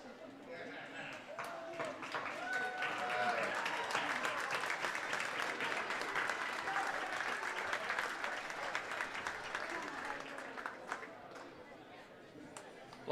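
A gymnasium crowd at a high school wrestling meet applauds a Lawrenceville wrestler, a steady wash of dense clapping that swells and holds for many seconds, with crowd chatter mixed underneath before it tapers slightly.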